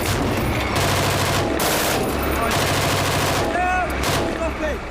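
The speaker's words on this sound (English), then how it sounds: "For Trooper Michael Hounsome, it is the first time he's been allowed to fire live rounds." Live rounds from the main armament of a Household Cavalry reconnaissance vehicle on a firing range: loud, dense, continuous bursts of rapid gunfire filling the whole stretch, with rolling echoes and faint voices beneath.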